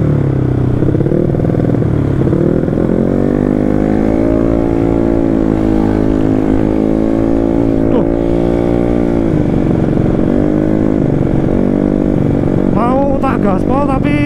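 A Yamaha Mio 200cc scooter rides at full throttle, a steady loud engine drone with rising and falling pitch as the rider works the throttle, wind noise throughout and someone speaking briefly near the end.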